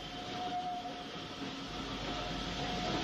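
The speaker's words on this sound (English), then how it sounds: "the sound of a steam locomotive hard at work is still heard" A steady, heavy rumble of a steam locomotive working hard up a bank in Wales, continuous and fairly loud, with a faint whistle-like tone running throughout.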